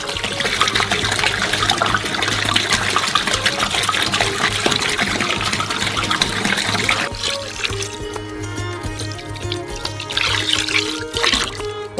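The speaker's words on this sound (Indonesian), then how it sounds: "Saat semuanya sudah tercampur rata, tuangkan air yang tersisa." Leftover water is poured into a cocoa ice cream mixture in a steady, loud, close gush, easing into a thinner trickle partway through and then swelling again.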